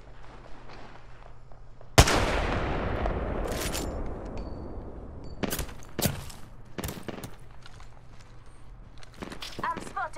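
Gunfire in the Apex Legends battle royale game: a loud close shot opens a booming rumble, followed by scattered sharp cracks and short bursts, with game chatter and voices in the background.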